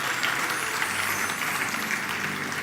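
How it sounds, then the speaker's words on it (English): Steady, dense applause from an audience at a launch event, filling the whole stretch at an even level with no voices over it. "Please give them another warm round of applause."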